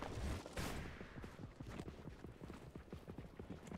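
Horse hooves clip-clop at a fast gallop in the video game Knightfall: A Daring Journey, a rapid, even rhythm of close, clattering beats that follows a louder rush of noise at the start.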